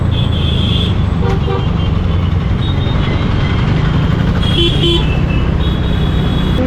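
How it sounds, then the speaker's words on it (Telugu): Busy road traffic heard from a TVS Ntorq scooter on a short ride, a steady engine and road rumble throughout with brief horn toots rising over it now and then. "ట్రాఫిక్ అయితే స్టార్ట్ అయింది చూడండి"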